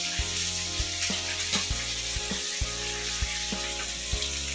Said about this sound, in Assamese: মাছখিনি ইয়াতে উলিয়াই ল'লোঁ, আৰু আছে ভাজিব।